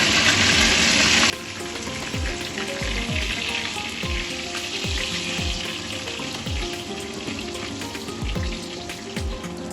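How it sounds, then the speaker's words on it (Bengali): Coral fish fry in hot oil, a loud sizzle that drops suddenly and continues as a steady, close crackle with intermittent spatters and light pan noises. "মাছগুলো ভাজা হয়ে গেছে, এবার আমি একে একে তুলে দেব।"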